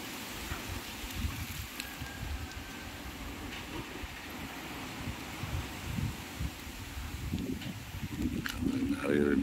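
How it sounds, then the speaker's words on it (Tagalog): Strong typhoon wind roars around a house in Daet, a constant broad rushing noise with gusts and rattles, close and loud, rising toward the end. "Grabe po ang lakas ng hangin"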